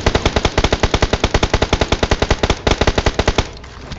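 Rapid automatic gunfire from PUBG Mobile, about ten shots per second in a steady loud burst lasting over three seconds, then stopping.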